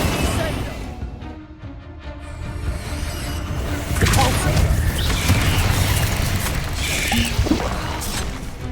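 An Incendio fire spell cast in the Hogwarts Legacy video game, a loud, dense whooshing burst that swells midway and lingers as roaring, crackling effects over a continuous background of game noise.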